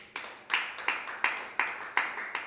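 A church congregation claps to acclaim the Lord during a Bible study: about eight or nine steady, evenly spaced claps, close and fairly loud, with no voices over them.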